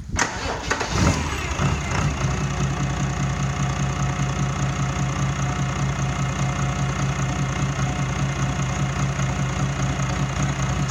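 FPT NEF 400 diesel engines in a workshop start up and settle into a steady, loud idle around 600 RPM, a continuous low throbbing drone heard alone.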